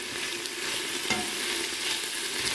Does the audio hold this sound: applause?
no